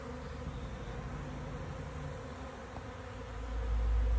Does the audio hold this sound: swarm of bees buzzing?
yes